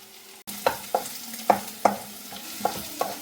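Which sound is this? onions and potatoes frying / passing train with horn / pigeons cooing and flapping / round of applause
onions and potatoes frying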